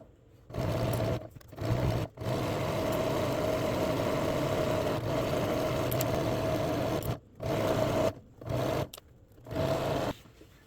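A sewing machine stitches a dress sash in long, steady runs, its motor hum close and even, broken by short stops and a few quick bursts of backstitching near the end.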